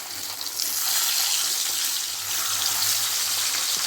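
Parshe fish frying in hot mustard oil gives a steady, dense sizzle that hisses continuously without pause, fairly close and moderately loud.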